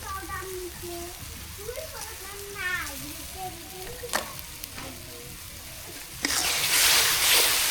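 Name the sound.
meat and spice mixture sautéing in a pan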